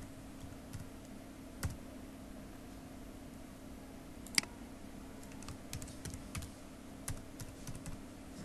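Quiet, close typing on a computer keyboard while weekday names are entered in HTML: sparse irregular key clicks over a low hum, with a few sharper taps and a brief cluster of faster keystrokes near the end.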